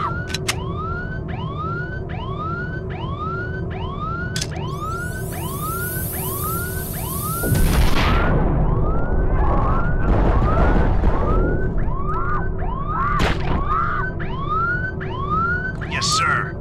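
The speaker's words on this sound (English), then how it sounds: "Alarm's gonna be annoying." A repeating alarm siren in the SWAT Global Strike Team video game wails in steady rising sweeps, about two per second, loud and continuous, joined by gunfire-like bursts and rumbling action midway while voices speak faintly.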